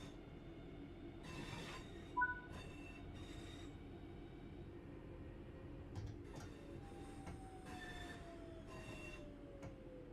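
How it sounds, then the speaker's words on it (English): Train wheels scrape and squeal on the rails in Train Sim World, a high screech that slowly glides down in pitch over a steady low rumble of the moving train, with a few short clunks and bursts of noise. "What's that horrible scraping sound?"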